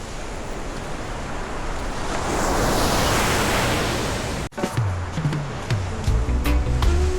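Sea waves surge and crash in a loud, broad rush that swells and then breaks off, followed by wind buffeting and thumping close to the microphone.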